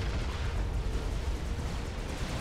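Torpedo launcher strikes on a T1 submarine in the real-time strategy game Supreme Commander: Forged Alliance: a dense, continuous rumble of underwater explosions, loud and low, with no talking.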